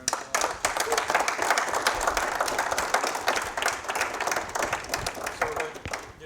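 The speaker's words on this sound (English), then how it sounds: "Let's give them a round of applause" Audience applause at an evening church gathering, a dense wash of clapping sustained for about six seconds at steady volume, fairly close, with no speech over it.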